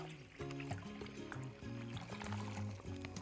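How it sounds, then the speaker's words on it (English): Big Bucket Margarita mix pours steadily into a pre-rinsed bucket, a continuous gushing splash lasting about three seconds, with a resonant tone that shifts as the bucket fills. "we'll just pour it into a pre-rinsed bucket"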